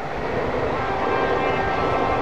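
Fajar Utama Solo passenger train passes close by with a loud, continuous rolling rumble and rattle of wagons at steady volume throughout.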